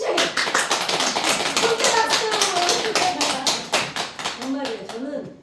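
A church congregation claps together in a long run of fast, dense, loud hand claps, holding steady for several seconds before thinning out, with voices mixed in underneath.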